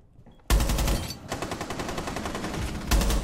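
Rapid automatic gunfire from a Rainbow Six Siege competitive match, starting abruptly after a brief quiet and continuing as a loud, dense stream of shots with a fresh burst near the end, no talk over it.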